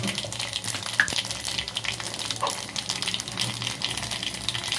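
Garlic, mustard seeds and cumin are dropped into hot ghee and oil for a red lentil and spinach dal tempering, crackling and sizzling steadily up close with small popping bursts throughout.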